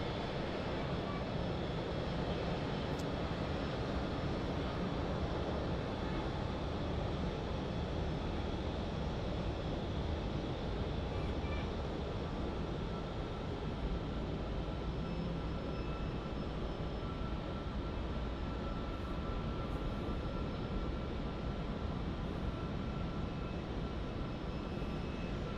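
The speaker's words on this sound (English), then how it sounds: "Just landed on runway 28. And there's that CH Air A320." A steady distant roar of an Airbus A320 airliner at Zurich Airport after landing on runway 28, a faint broad engine rumble holding evenly throughout.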